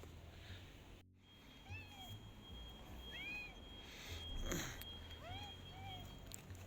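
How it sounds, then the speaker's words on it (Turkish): A stray cat meows repeatedly outdoors, several short rising-falling calls spread across a few seconds, moderately close over a steady low background hum, with a brief sharp noise burst near the start. "Evet bu kedicik gene karşıma çıktı ama bugün sanki daha temiz arkadaşlar."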